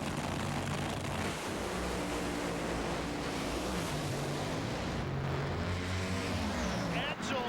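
Top Fuel drag racers roar down the strip at the 1996 NHRA Big Bud Shootout, a loud, continuous wall of engine noise that holds steady throughout, with a commentator talking over it.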